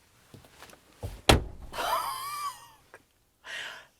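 A Mercedes-Benz G-Class EV door slams shut with a single sharp, heavy thud close by, followed by rustling, a breathy exhale and faint handling noises.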